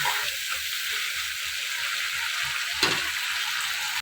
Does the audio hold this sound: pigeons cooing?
no